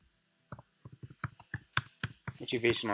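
Someone types a file name on a laptop keyboard, a quick run of close, crisp key taps that speeds into a denser burst at the end, with no talking over it.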